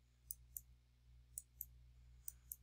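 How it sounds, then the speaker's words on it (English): Computer mouse clicks while measuring a path in Google Earth: six sharp, quiet clicks in loose pairs over a faint steady hum, no voices. "you can simply click"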